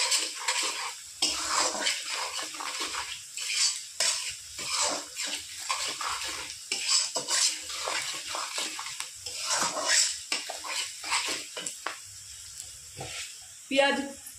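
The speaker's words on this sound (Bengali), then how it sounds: "পেঁয়াজ আমি হালকা বাদামি কালারে ভেজে নিয়েছি" Clattering and scraping of a spoon stirring salted onions frying to light brown in a pan, with rhythmic knocks and a light sizzle beneath. Occasional clinks stand out.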